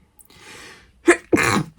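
A quick breathy inhale, then a sharp sneeze, close and alone.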